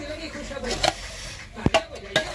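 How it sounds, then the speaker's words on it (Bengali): A spoon clinks and scrapes against a metal pot a few times while thick khichuri is stirred, close and brief. "নাড়ো তো খিচুড়িটা"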